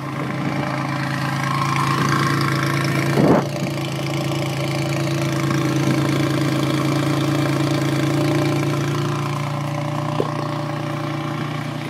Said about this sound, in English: Exhaust is SLP headers, high flow catback is stock, except there's no resonator